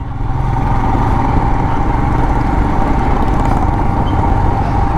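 A Royal Enfield Himalayan motorcycle engine runs steadily while riding on a road, a continuous low, droning hum that stays loud and even throughout, with no voices.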